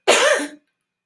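A single short, harsh cough, close and loud, followed by silence.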